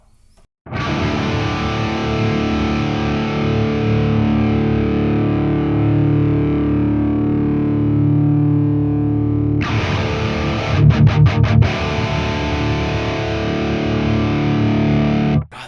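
Heavily distorted electric guitar played through a Bogart amp on a lead voicing rings out loud and sustained, first as one long held chord, then as a fresh chord with a quick burst of choppy strums, with no voice.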